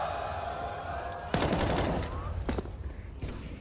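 Rapid bursts of rifle gunfire in a professional Counter-Strike grand final match, Vitality versus GamerLegion, cracking out in a dense volley and then a few scattered shots afterward, with no talk over them.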